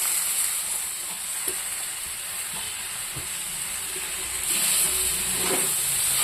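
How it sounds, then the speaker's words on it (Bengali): Fish frying in a pan with oil, a loud continuous close-up hiss and sizzle with a few soft pops, swelling a little louder near the end. "এটাকে আমি একটু সময় ভাজবো।"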